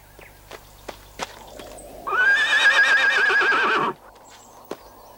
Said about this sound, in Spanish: Efectivamente, es el caballo que me perteneció hace tiempo.